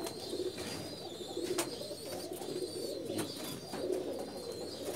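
Lal Pari breed pigeons coo in soft repeated phrases close by, with a few sharper wing flaps or chirps mixed in over a quiet background.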